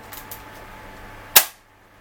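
A Hammershot toy blaster fitted with metal parts, including an aluminium trigger and priming lever, fires once with a sharp, close crack followed by quiet.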